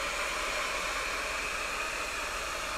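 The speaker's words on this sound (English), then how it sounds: "you can try taking out the heat gun or blow dryer again" A heat gun or blow dryer runs steadily to warm the adhesive on a Galaxy S6 phone during a digitizer replacement, a constant close airy whoosh with no talk.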